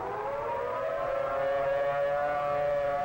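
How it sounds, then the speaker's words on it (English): A civil defense tornado siren wails loud and steady, its sustained tone slowly rising and falling, with no other sounds. "We think the siren should be activated at the present time."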